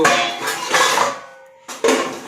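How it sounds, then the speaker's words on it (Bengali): Brass cooking pots clank and ring as they are lifted and stacked away, several close metallic knocks in two bursts separated by a short pause, with no talking. "এখন এমনি ইনট্যাক্ট অবস্থায় তুলে রাখছি হাঁড়ি"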